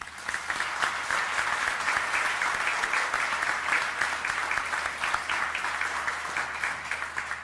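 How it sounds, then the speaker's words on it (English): Audience applause for Shannon and the school principals at an academies celebration, a sustained even roar of many clapping hands lasting throughout, moderately distant. "Let's give them a round of applause, please."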